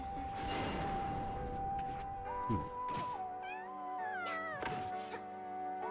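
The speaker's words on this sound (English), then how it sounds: "Kitty!" A cat meowing in the game Final Fantasy XI, a few drawn-out, rising and falling cries mixed into layered game music and effects, with a couple of dull thumps.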